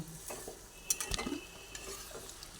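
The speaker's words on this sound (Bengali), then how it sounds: "আলু মোটামুটি নাড়াচাড়া করতে করতে সেদ্ধ হয়ে এসেছে" Potatoes and cucumber simmering in a little water in a pot are stirred with a utensil, producing a few quiet scrapes and clinks over a soft cooking sizzle, with no voices.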